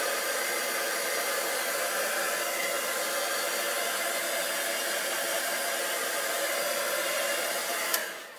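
A hot embossing heat tool blows steadily to dry watercolour on card, a constant loud rushing hiss that runs unbroken for about eight seconds before a click as it switches off and fades.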